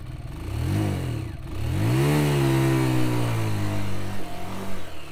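A motorcycle engine labors uphill, revving up and down in rising and falling pitch sweeps before holding a strained steady drone, then sputtering unevenly near the end, loud and close with no talk.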